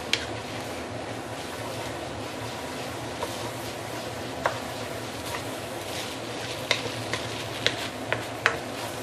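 Maggi mee goreng noodles, seasoned with white pepper, are stirred and tossed in a hot pan, giving a steady close sizzle broken by sharp scraping clicks of the utensil, with no talking.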